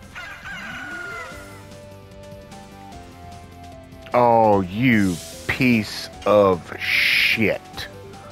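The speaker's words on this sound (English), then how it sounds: "Oh no, chickens." Chickens in The Legend of Dragoon video game cluck and squawk in a run of sharp, loud bursts after a few seconds of quieter game music.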